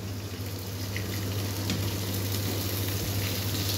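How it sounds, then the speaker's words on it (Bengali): Pieces of pointed gourd (potol) frying in a pan for a home-cooked potato and potol curry, a steady close sizzle with faint crackles over a low constant hum. "এখানে পটলগুলো ভাজতে দিয়েছে ভালোভাবে।"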